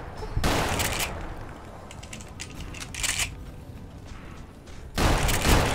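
Shotgun fire in Fallout New Vegas inside a cave, with a few sharp, loud blasts spaced apart and clicking mechanical handling noises between them.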